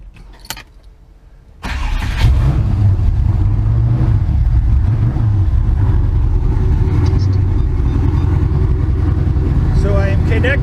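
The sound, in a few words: engine of a GTM ducted fan rig running loud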